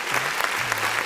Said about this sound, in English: Let's go ahead and clap a little bit.